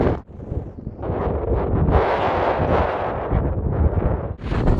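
Strong gusty wind on Iceland's south coast roars and buffets the microphone almost continuously, loud and close, with brief lulls at the start and end.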